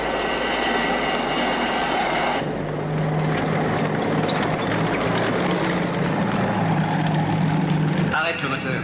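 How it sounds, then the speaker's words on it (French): An engine drones loudly and steadily for several seconds, a constant mechanical hum that shifts slightly in tone midway, with a voice heard over it near the end. "Arrête le moteur."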